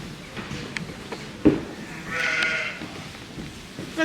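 A sheep bleats once in a long, wavering call at a farm in the Cotswolds during lambing season, moderately close, with light background noise and faint voices nearby.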